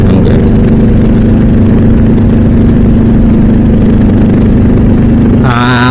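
A Voge 525 DSX motorcycle fitted with a slip-on muffler idles close up, a loud steady low rumble that holds evenly throughout, with a brief rise near the end.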